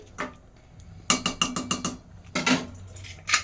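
A pressure cooker lid is fitted on over chicken biryani, producing a quick series of close, bright metallic clinks and taps with short pauses between them.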